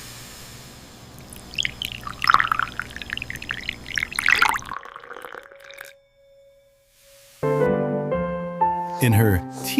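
Warm milk being poured, a gurgling, splashing pour close by for several seconds, followed by a pause and then a bright musical passage.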